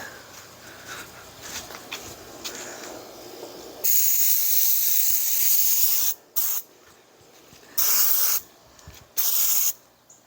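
Bursts of aerosol spray paint coat a plastic door handle, a loud close hiss running for about two seconds and then cutting off into several shorter spurts with quiet gaps between them.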